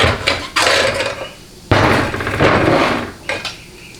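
Metal clanks and scrapes as the band of a 4L60E transmission is worked loose from the reverse input drum, several sharp close knocks with rattling in between, no talking.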